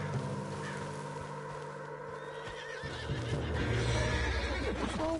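Horse neighing in Red Dead Redemption 2, a loud, wavering whinny close by with clip-clop hoofbeats and game ambience, no talk.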